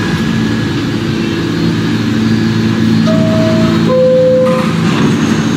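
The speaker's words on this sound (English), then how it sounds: "This is a Manhattan bound D local train." A Manhattan-bound D local subway train at Newkirk Plaza station in New York, with a loud, steady rumble of cars and wheels, a low hum throughout and brief high squeals of brakes near the end.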